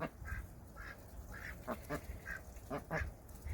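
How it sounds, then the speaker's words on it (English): Several runner ducks quack in short bursts while pecking at carrot greens outdoors. The calls are nasal and uneven, some near and some farther off, over faint background noise. "I think the ducks are going to enjoy the carrot greens."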